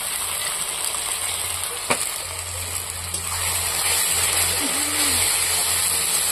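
Whole green chillies fry in a pan with ginger-garlic paste for a soybean curry, giving a steady, close sizzling hiss with a single brief clink partway through.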